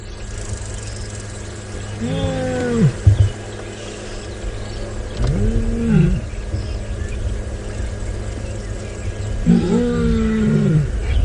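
A lion gives three deep, drawn-out roaring calls spaced a few seconds apart at moderate distance, heard on a sunset safari drive over a steady vehicle engine idle and outdoor ambience.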